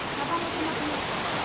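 A small waterfall on a river at dusk rushes in a steady, broadband wash of falling water that fills the short moment without pause.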